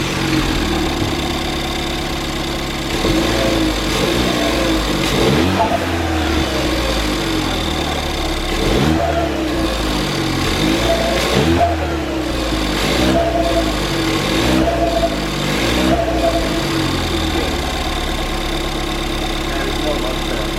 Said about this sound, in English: Let's start it up. Let's see how bad it sounds.